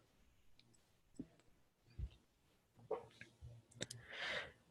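A few sharp mouse clicks, sparse and close, made while working in ERP business software, with faint room noise between them and no speech.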